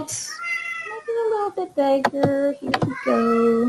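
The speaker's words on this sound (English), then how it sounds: "That's my cat in the background." A pet cat meows several times indoors behind a person speaking, the drawn-out, wavering meows rising clearly over the talk, with one long final cry.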